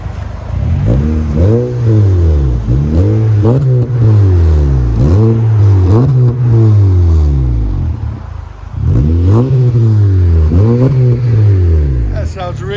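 Revving of a 2017 Honda Accord 2.4L four-cylinder through a Magnaflow Magnapack exhaust: repeated rising-and-falling throttle blips, loud and close, with a short pause before more revs.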